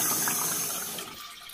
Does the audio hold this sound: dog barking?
no